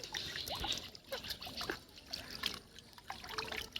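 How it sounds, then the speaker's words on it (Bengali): Carp are released into a pond, making quiet, close splashing and trickling water in irregular bursts throughout. "আমরা এখন এই মাছগুলো আমাদের পুকুরে ছাড়তেছি"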